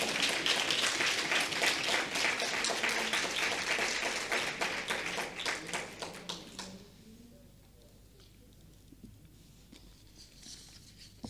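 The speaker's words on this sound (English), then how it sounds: "Shall we give him another round of applause?" Audience round of applause at a teachers' honour ceremony, with dense clapping for about six seconds, then thinning into scattered claps and fading to quiet.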